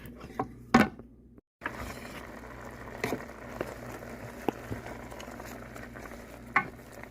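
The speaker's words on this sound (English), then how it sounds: "we're going to get this all stirred up and finish getting the bottom scraped" A spoon stirs and scrapes across the bottom of a pot of homestyle beef stew, giving soft repeated scrapes and clinks over a steady low simmering sizzle, close and moderately quiet with a brief gap near the start.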